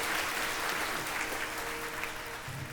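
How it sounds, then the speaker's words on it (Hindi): An audience applauds a pageant contestant, Jasmine Gordon, placed third in a teen beauty competition; dense, steady clapping fills the whole stretch at even loudness, fading slightly at the end. "खूबसूरत जास्मिन गॉर्डन के लिए एक बार तालियां हो जाए"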